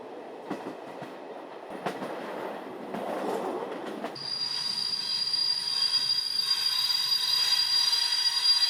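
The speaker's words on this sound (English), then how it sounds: "screeching brakes and wheels and rails, a train comes into the deserted station" A night train rumbles and clatters into Chur railway station, then a loud, sustained high-pitched squeal of wheels and brakes on rails takes over as it slows.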